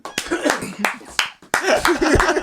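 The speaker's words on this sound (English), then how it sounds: "Somebody was clapping there." A few sharp claps ring out briefly amid lively talking and laughter in a room.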